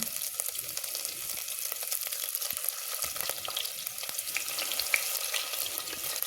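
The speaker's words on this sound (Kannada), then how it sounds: "ಸ್ವಲ್ಪ ಹೊತ್ತು ಎಣ್ಣೆಯಲ್ಲೇ ಫ್ರೈ ಮಾಡ್ಕೊಳ್ಳೋಣ ಶುಂಠಿ ಬೆಳ್ಳುಳ್ಳಿಯನ್ನು." Ginger and garlic sizzle steadily in hot oil, a dense continuous crackle with scattered sharper pops and light stirring scrapes, close and alone without any voices.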